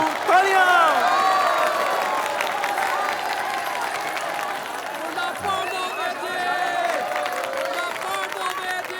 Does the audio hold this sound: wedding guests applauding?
yes